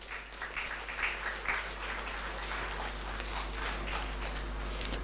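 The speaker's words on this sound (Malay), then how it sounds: "kita berikan tepukan kepada Tan Sri." Audience applause after a lecture on national management, steady moderate clapping throughout over a low hum.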